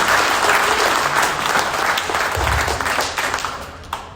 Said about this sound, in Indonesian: Tepuk tangan dong buat Herspen